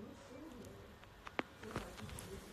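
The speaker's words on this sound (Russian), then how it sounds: "Слушай, как птички поют" Birds chirp outdoors: a few short, faint calls and a soft cooing sound scattered over quiet background noise, with one brief sharper chirp standing out.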